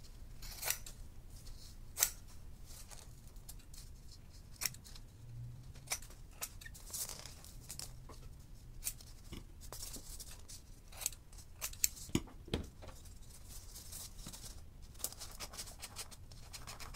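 Scissors trimming fabric for a no-sew kimekomi ornament, quiet close snips scattered irregularly across the stretch, some in quick pairs, with a faint background hiss and no talking.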